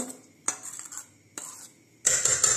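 Semolina batter being stirred with salt in a bowl, a spoon scraping and clinking against the sides in a few short bursts separated by brief pauses, close and fairly quiet, ending in a longer busier stretch of mixing.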